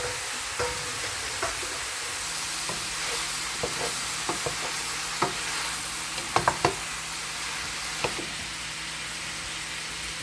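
Sausage and garlic sizzling in a pan, a soft steady frying hiss with occasional sharp pops and utensil clicks as the food is stirred, fairly quiet and close, with no talking.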